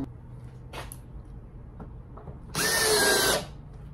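A power drill drives 2.5 inch screws into wood while attaching a lathe top to its base, with a few handling knocks and then a single loud, close whir lasting under a second.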